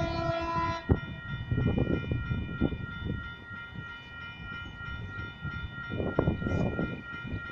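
Sydney Waratah electric train, set A40, at Mulgrave station, with a steady rumbling hum and faint rattling through the whole span, joined early by a sustained multi-tone horn that cuts off sharply around the first second.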